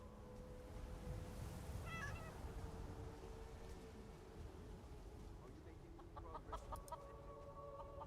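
A cat meows in Skyrim, played with the Wabbajack modlist, with short mewing calls rising near the middle and again near the end, over a steady bed of game ambience and music.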